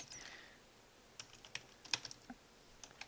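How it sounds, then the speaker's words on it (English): Sparse keystrokes on a computer keyboard, a handful of distinct, irregular clicks at close range in an otherwise quiet room. "Jesus, I can't talk while typing."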